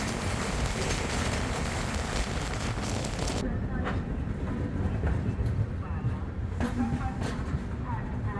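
An Indian express train, the 12523 New Jalpaiguri–New Delhi Express, crosses the Humsafar Express. A loud, continuous rolling rumble of passing coaches fills the whole stretch, with faint voices mixed underneath.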